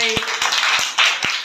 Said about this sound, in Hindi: अंशिका के लिए बहुत जोर से ताली बजाई आपने भाई